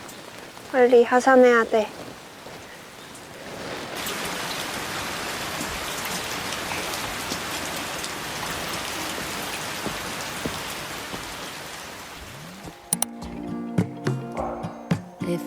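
Steady rain falls outdoors in a continuous, even hiss of drops on surfaces that lasts several seconds. A person speaks briefly before it, and music comes in as it fades.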